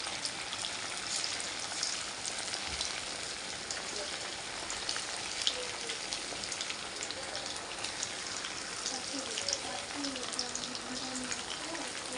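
Chicken pakoda frying in hot oil with curry leaves and green chillies, a dense, steady bubbling sizzle that holds evenly throughout, close and moderately loud.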